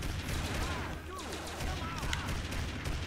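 Gunfire from the Family Guy Back to the Multiverse video game on Xbox 360, a steady wash of shooting and effects running through the whole stretch at moderate level, with a voice talking over it.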